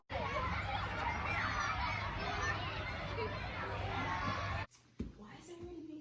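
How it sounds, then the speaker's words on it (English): Trick-or-treaters on Halloween night in Los Angeles make a loud, continuous crowd noise outside, with children shouting and chattering, before it cuts off abruptly and a few quieter sounds follow. "Wait, those voices are from the trick-or-treaters."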